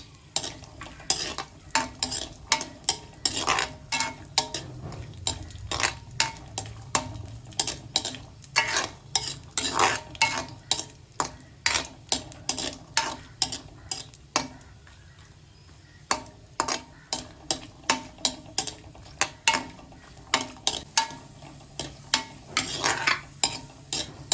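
Cashews and raisins frying in a pan for mango kesari, with repeated sharp scraping and clinking of a spoon stirring against the pan over a soft sizzle, continuous and close.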